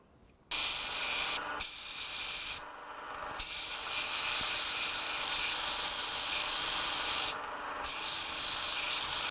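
A knife handle being filed and rounded by hand, a steady dry rasping scrape running almost continuously with two short pauses, close and fairly loud.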